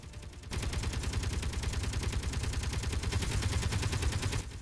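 Sustained rapid gunfire in the space game Space Engineers during an enemy base siege, a dense continuous burst of shots starting abruptly after a brief pause and holding steady and loud throughout.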